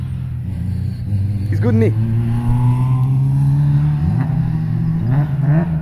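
A car engine hums steadily and rises into revs during drifting, loud and close, with a voice talking over it.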